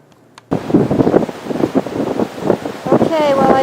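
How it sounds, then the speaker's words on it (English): Strong blizzard wind rushes in suddenly after a near-silent start, loud gusts buffeting the microphone in uneven surges that roar outdoors in front of a condo. "It started about 4 hours ago and is extremely windy."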